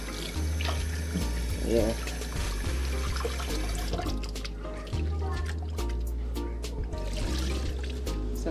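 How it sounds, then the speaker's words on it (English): Rice being washed in water at a sink, with running and sloshing water close by, while a person talks over it. "So guys, finish wash the rice."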